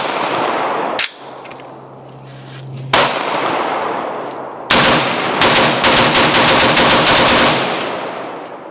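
A Draco pistol fires at a gun range: loud, close shots, first a few spaced blasts, then a rapid string of repeated cracks with metallic ringing between them.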